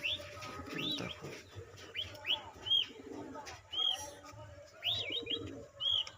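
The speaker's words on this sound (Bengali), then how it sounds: "প্রচণ্ড অ্যাগ্রেসিভ পায়রা" Aggressive pigeons in a loft let out repeated high, whistling chirps and coo-like calls in short irregular bursts, fairly faint over low scuffling and background noise.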